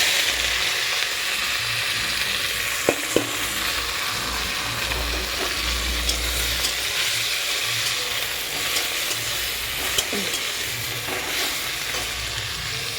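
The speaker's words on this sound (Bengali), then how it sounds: "উচ্ছে আলুটা ভেজে নিয়ে আসবো" Bitter gourd and potato fry in hot oil in a wok with a steady, close sizzle that runs throughout, broken now and then by the faint clicks of stirring.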